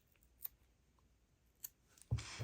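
Scissors snip knitting yarn while making a man's knitted hat: a couple of faint, sharp clicks in quiet, then a louder closing cut near the end, close up with no talk.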